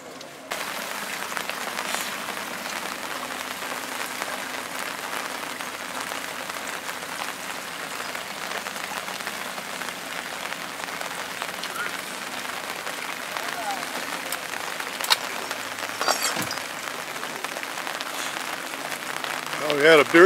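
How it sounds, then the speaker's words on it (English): Steady rain patters on surfaces all around, a constant hiss of drops with occasional faint knocks and movement in the background. "now it's raining again."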